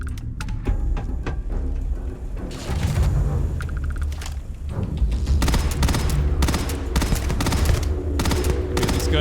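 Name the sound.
gunfire from a video game gun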